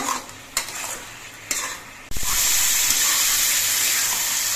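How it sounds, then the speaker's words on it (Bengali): Ridge gourd stirred with Kashmiri chili powder in a hot pan: a few scrapes and clinks of a spoon against metal, then a loud, steady sizzle that holds unbroken to the end, close and with no voices. "এবার সব কিছু দিয়ে আবার নেড়ে চেড়ে মিশিয়ে নেব"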